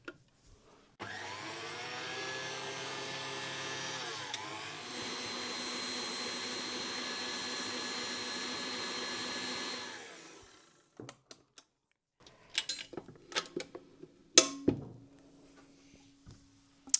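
Kitchen blender whizzing oil, glycerin and sugar for a foaming sugar scrub, a loud steady motor whine lasting about nine seconds with a brief pitch dip, then stopping, followed by scattered clatter and knocks of the jar and lid.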